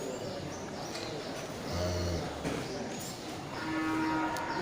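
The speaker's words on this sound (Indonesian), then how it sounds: "di belakangnya juga terlihat satu ekor sapi dari jenis sapi limosin ya" A Limousin beef cow moos with low, drawn-out calls at a quiet outdoor cattle market in Aceh, over a murmur of background crowd noise.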